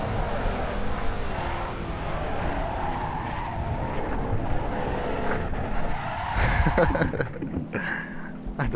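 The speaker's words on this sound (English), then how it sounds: "press the brake harder, but it is too hard then, and it just locks the wheels" Car tyres lock and skid under heavy braking in the Assetto Corsa racing game. A steady engine and tyre roar runs throughout, swelling into a harsher scrubbing squeal near the end.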